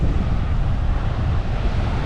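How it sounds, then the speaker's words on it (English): Gulf of Mexico surf on a beach at Pensacola, Florida, rolling in as a steady, loud low roar with continuous wash and wind buffeting the microphone, no voices. "But look at these waves."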